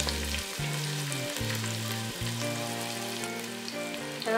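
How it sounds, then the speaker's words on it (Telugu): Thinly chopped onions go into hot oil with tempering seeds and fry with a steady, dense sizzle that lasts the whole time, with a low, even hum underneath. "సన్నగా తరుక్కున్న ఉల్లిపాయ ముక్కలు వేసుకోవాలి."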